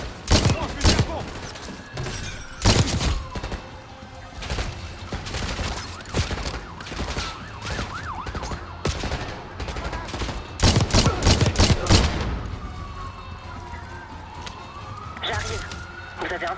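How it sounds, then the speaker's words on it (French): Gunfire in the Black Ops 6 campaign, including shotgun blasts, cracks out in loud scattered bursts over background combat noise while a voice talks throughout. "Oh, fusil à pompe."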